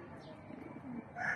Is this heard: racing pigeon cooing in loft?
yes